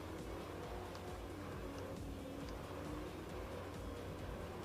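A video game race car laps a long track, its engine a steady, dense drone that holds at an even level throughout with no voices over it.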